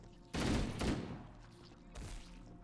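Gunfire in the video game Halo: Combat Evolved, two short, faint bursts of shots a second and a half apart over a quiet background.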